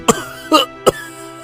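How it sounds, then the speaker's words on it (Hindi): An elderly man in an animated Hindi moral story coughs hard three times, each a short harsh burst spaced about half a second apart, close and loud with no talk. "इतना कहकर धर्मपाल को जोर से खांसी उठी।"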